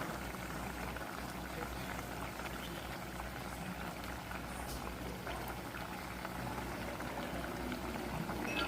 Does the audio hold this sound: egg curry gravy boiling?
yes